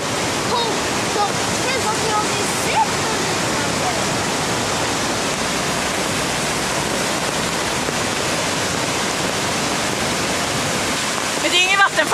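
A powerful waterfall in Bali roars as a steady, loud, broadband rush of falling water, constant from start to end, with a few brief faint sounds near the close.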